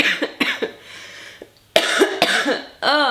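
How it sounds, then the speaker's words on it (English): A person coughing with a bad cough, several harsh, close bursts in clusters separated by short pauses, the later ones louder and raspier, with no speech. "I have this awful cough"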